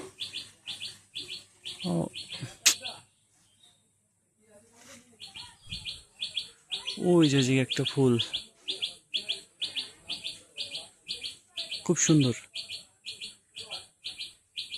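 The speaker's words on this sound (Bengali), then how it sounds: "ওই পেয়ারা গাছে সম্ভবত পাখি ডাকতেছে" Tailorbird (tuntuni) calling from a guava tree in a village on a cloudy morning, short bright chirps repeating steadily in a rhythmic series, with someone speaking briefly over it partway through.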